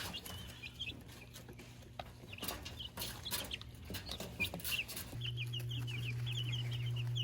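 Olive Egger chickens in a pen cluck and chatter in short bursts against a steady low hum, with scattered bird calls layered on top; moderately quiet, no talking.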